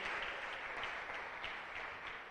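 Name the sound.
congregation applauding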